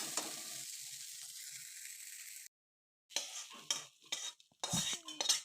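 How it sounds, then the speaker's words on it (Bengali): Yardlong beans sizzle in a pan with a spatula stirring and scraping, then a pause followed by bursts of stirring and clinks. "দেখো বরবটিগুলো আমি ভেজে নিচ্ছি"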